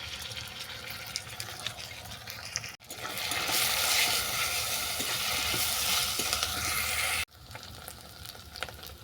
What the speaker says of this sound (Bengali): পেঁয়াজগুলো একটু বাদামি করে ভাজা হয়ে গেলে দেবো আদা রসুন পেস্ট